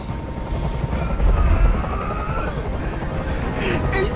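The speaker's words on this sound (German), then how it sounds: "Ich halte diesen Krach nicht mehr aus. Dieser Helikopter soll verschwinden." A helicopter hovering overhead in the video game Detroit: Become Human, a loud continuous rotor rumble and whine that fills the scene with dense, steady noise and a few sharper sounds toward the end.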